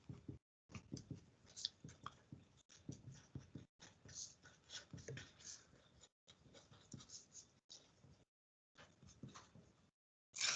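A purple marker drawn across white paper in repeated short squeaky strokes, grouped in bursts separated by brief silent pauses, quiet and close.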